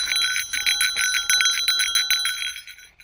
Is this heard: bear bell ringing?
yes